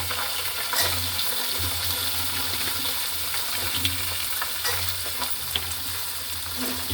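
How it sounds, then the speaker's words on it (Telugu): Garlic frying in a steel pot, a steady close sizzle with light clinks and stirring scrapes running throughout, no talking. "ఇప్పుడు వెల్లుల్లిపాయలు వేస్తాను"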